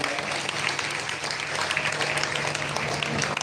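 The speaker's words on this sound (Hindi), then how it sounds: "एक बार इनके लिए भी जोरदार तालियां" Audience at a Bhagavat Katha religious discourse in Kurukshetra claps for elderly attendees, a steady dense applause with a low hum underneath throughout.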